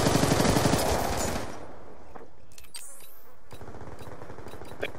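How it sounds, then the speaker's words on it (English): Video game gunfire with an exploding stick of dynamite: a dense, loud burst of shots and blast noise for the first second and a half, then a quieter stretch broken by a few sharp cracks and a rising whine. "Here's an exploding stick for you, and some bullets for your face"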